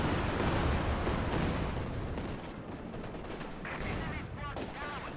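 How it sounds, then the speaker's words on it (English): Artillery barrage and gunfire in the World War II strategy game Company of Heroes 2, a dense, continuous roar of explosions and rapid shots with no pause, loud and overlapping throughout. "That is quickly halted by the arrival of the CoH2 barrage there from PS3yes and the Red Army"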